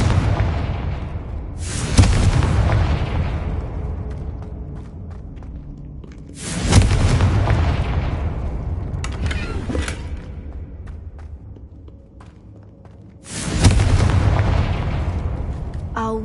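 Three heavy blasts from the Confringo fire spell in the video game Hogwarts Legacy, several seconds apart, each a sudden loud boom that rolls off into a long, rumbling decay.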